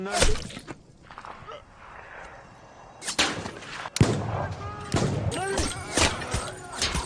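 Film action scene with a hidden sniper firing, several sharp loud gunshot bangs with echoing tails after a quieter stretch, mixed with other soundtrack noise and effects.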